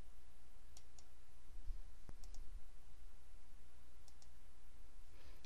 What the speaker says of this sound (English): Go ahead and click the second box and repeat